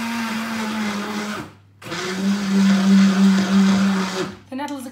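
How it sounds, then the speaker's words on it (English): A stick blender whirs loudly as it blitzes wild garlic and nettle soup, a steady motor drone that briefly cuts out and restarts, with a short sound at the end. "Now then, I'm just going to give the soup a little blitz."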